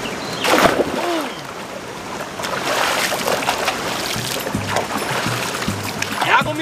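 Water splashes and sloshes as people bathe in a natural mineral spring, a busy, noisy wash of water with voices talking throughout.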